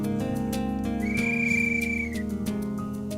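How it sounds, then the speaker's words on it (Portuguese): A scout whistle blown outdoors, giving a sustained shrill tone of about a second over a busy background of other tones and clicks. "Seu João toca o apito dos escoteiros."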